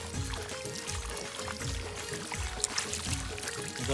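Rain falls during a night fishing trip as a steady, continuous hiss with faint patters and a low hum beneath, even in level throughout.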